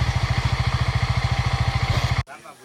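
Motorcycle engine running close and loud with a fast, even thumping pulse for about two seconds, then cutting off abruptly into quiet background.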